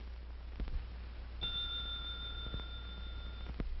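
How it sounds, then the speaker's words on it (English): A bell rings for a reaction-timing test, one steady bright tone that holds for about two seconds over a faint low hum and a few soft clicks. "Try to tell where the hand of the clock is when the bell rings."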